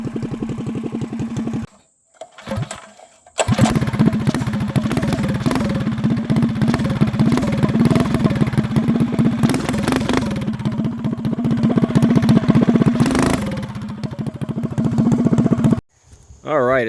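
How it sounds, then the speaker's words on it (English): A Go Power Sports Rascal GT drag mini bike's small engine idles steadily near at hand, with brief dropouts around two and sixteen seconds and a few throttle blips in between. "It's been idling for about 15 minutes."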